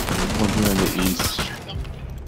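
Gunfire in the tactical shooter Rainbow Six Siege, a quick burst of loud clattering shots packed into the first second and a half, mixed with a voice, then fading.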